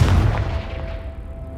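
Confringo fire blast spell in Hogwarts Legacy, a single loud booming burst with a low rumbling tail that fades out over about a second and a half.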